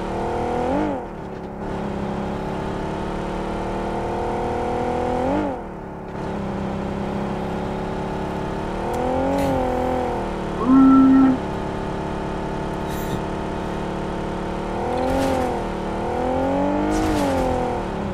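Video game car engine drones and revs through repeated rising and falling pitch sweeps, steady and fairly loud, with brief dips between accelerations.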